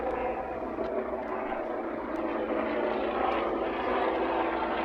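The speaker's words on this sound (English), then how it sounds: "is it a helicopter?" A helicopter passes overhead outside the Newport Arms entrance, its steady engine and rotor drone loud and continuous throughout, with no talking.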